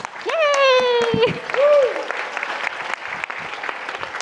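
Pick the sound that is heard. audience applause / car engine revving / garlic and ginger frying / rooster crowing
audience applause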